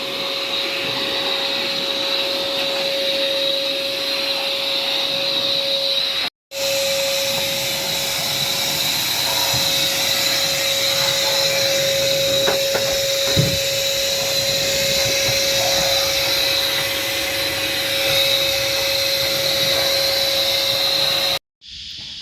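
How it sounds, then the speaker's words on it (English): A small handheld air blower runs steadily, clearing debris from a clogged channel in a Suzuki LJ80: a constant loud whine with a high tone that cuts out briefly twice. "So this is a little blower, okay?"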